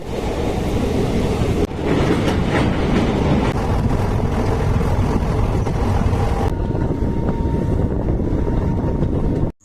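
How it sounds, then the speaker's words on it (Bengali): A train rumbles loudly and continuously along the rails on a Kolkata to Tripura journey, a dense roaring clatter that drops in tone partway through before cutting off. "আবার রেলের মধ্যে উঠছি।"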